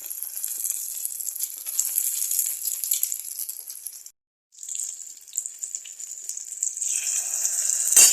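Chicken shami kababs fry in hot oil with a steady bright sizzle that cuts out briefly halfway through, then resumes and swells toward the end, with no talking.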